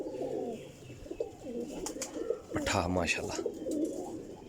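Pigeons of a fancier's flock coo softly in a low, repeated murmur throughout, with someone talking over them and brief brighter calls near the middle.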